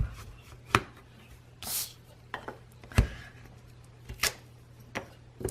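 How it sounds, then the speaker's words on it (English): A rubber stamp from a greeting stamp set is pressed onto a Versamark ink pad in a series of soft, close taps, spaced irregularly with quiet pauses between them. "I'm going to ink this up using my Versamark ink."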